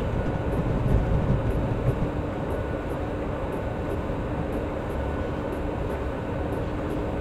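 BR151 electric locomotive train slowing to a stop on the Berlin–Wittenberg line in Train Simulator 2016, a steady low rumble of wheels and motors with faint regular rail clicks, no talking.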